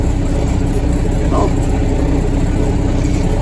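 A tractor engine runs during sowing on a farm field, a loud, close, steady rumbling drone with no breaks across the whole stretch.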